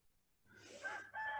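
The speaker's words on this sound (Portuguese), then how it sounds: "Olha o galo cantando aí." A rooster crows somewhat in the distance, a faint rising call with a strained, gasping quality breaking off then resuming briefly, over quiet background.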